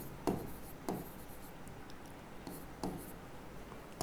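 Handwriting on a board during a chemistry lesson on surface tension, heard as a few faint scratchy strokes spaced about a second apart over quiet room noise.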